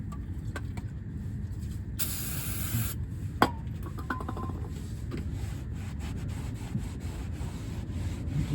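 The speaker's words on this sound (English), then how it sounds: "So we're just going to use some brake clean." Brake cleaner sprayed onto a flywheel surface during a 1974 Ford F350 four-speed swap, a single hissing burst of about a second over low background noise, followed by faint scraping and clicks.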